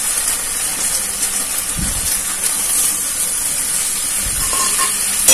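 Water poured into a hot pan of chili soybean in a village kitchen sets off a loud, continuous sizzling hiss with steam, steady and close throughout.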